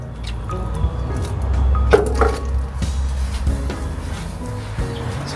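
Potting soil being wetted with water and worked by hand while transplanting tomatoes, cucumbers and peppers, giving close, soft squishing and dripping sounds with irregular wet crackles.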